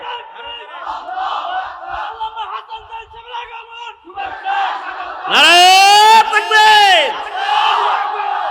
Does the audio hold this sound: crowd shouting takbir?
yes